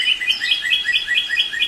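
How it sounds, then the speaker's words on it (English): Bright, melodious birdsong of rapid repeated chirping phrases, close and clear, with no other sounds. "These birds sing melodious tunes throughout the year, adding charm to their surroundings."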